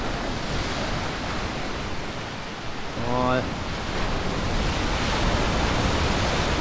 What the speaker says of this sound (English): waves crashing against the rocks.